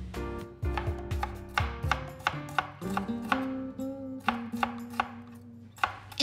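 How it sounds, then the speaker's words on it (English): Knife chopping strips of bell pepper into small cubes on a cutting board, a run of distinct, irregularly spaced knocks that sound close and crisp. "chop into small cubes"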